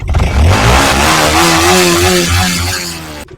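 A 2021 Yamaha MT-15 motorcycle engine revs loudly and close by, its pitch rising and falling through several throttle blips before cutting off near the end.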